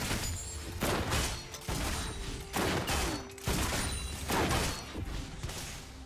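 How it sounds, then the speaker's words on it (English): Miss Fortune's twin guns blazing in League of Legends, a string of about six loud, rapid gunfire bursts fired back to back with short gaps between volleys. "Gun blazing."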